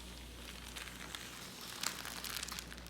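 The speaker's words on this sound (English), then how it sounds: "if you have a really sharp scissors, you can use it like a letter opener and make a fast cut" Sharp scissors slide quickly through a plastic trash bag in a fast, continuous cut, giving a faint crinkly rustle close by with no one speaking.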